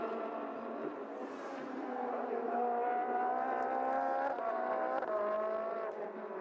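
Race cars on the last lap at Mugello circuit produce a steady, moderately distant engine drone with rising and shifting tones as they pass through gears, under a commentator's voice.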